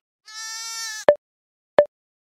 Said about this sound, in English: He took care of sheep.